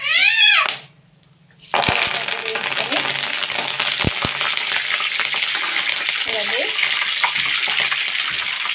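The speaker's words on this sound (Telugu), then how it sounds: "కరివేపాకు బాగా వేగింది కదా, ఇప్పుడు దీన్ని ఒక బౌల్లో తీసుకోవాలి" Curry leaves fry in hot oil while an atukula (poha) mixture is made: after a short quiet gap, a steady, dense crackling sizzle runs close and continuous, with a few sharp clicks, following a brief high tonal sound at the start.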